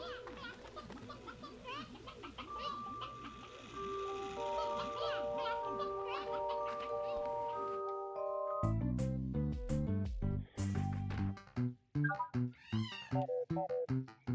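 A cat meows in the video game Slime Rancher 2, short repeated mews over game music, moderately loud, with a voice speaking at times.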